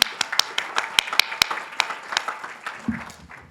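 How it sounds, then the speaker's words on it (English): Sparse clapping from a workplace town hall audience, a handful of distinct sharp claps scattered over a few seconds rather than a full dense ovation, fairly close and moderately loud. "please give yourselves a round of applause"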